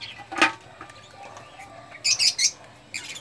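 Domestic pigeons kept as pets call with short bright chirps, a distinct burst early then a cluster of louder calls near the end, over a soft background with possible light wing flaps.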